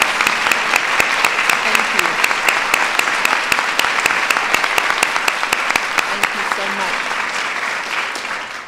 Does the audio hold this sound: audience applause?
yes